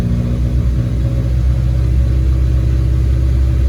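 Audi A5 engine gets a light dab of throttle, a close, low rumbling hum that swells slightly and holds steady, kept at low revs with no voices.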